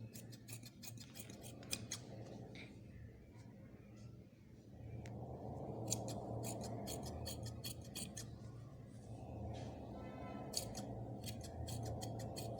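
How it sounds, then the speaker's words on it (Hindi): Scissors snip away excess fabric around the curve of a front pocket, giving a series of quick, close clicking cuts in uneven clusters over a low background hum. "एक्स्ट्रा पीस जो है हल्का हल्का तराश देना है"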